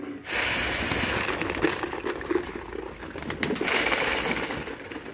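Pigeons coo softly and repeatedly close by, low throaty calls over a rustling background, with no talking.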